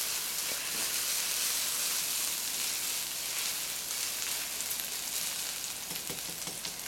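Onion and pepper cook down in a frying pan, giving a steady, bright, dense sizzle that holds evenly throughout with faint crackles and no voices.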